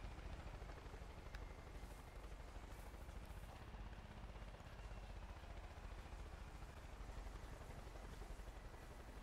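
A helicopter in the video game Far Cry 5 drones continuously with a dense, low whirring rumble, steady and fairly close, with no talking over it.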